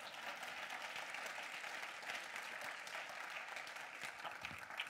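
A church congregation at a pastor's sermon applauds and cheers, a continuous, even wash of clapping from a large crowd that holds at moderate distance throughout.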